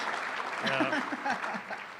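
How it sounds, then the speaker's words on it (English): Applause from a banquet audience at a chamber celebration continues as a steady wash of clapping, with a voice talking briefly over it. "You want to stop applauding now."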